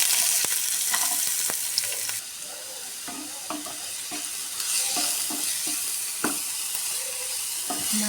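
Onions sizzling in hot oil after mustard seeds have popped: a steady, close hiss of frying with scattered crackles and pops, and a few soft scrapes of stirring. No one speaks.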